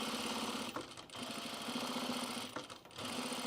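An industrial sewing machine with a stout presser foot runs in fast continuous stitching bursts, a rapid even mechanical chatter, close and loud, pausing briefly twice.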